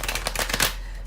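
A deck of tarot cards is riffled in one quick, close shuffle, a rapid burst of papery flutters that fades out, with no voices.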